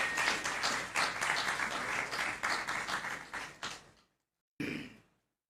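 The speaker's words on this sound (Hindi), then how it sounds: "आप सब तालियों के साथ उनका स्वागत करेंगे" A church congregation applauds guests coming onto the stage, a dense roomful of clapping that swells, thins out and stops, followed after a brief silence by a short final burst.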